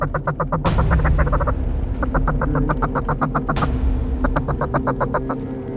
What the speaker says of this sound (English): look at the ducks coming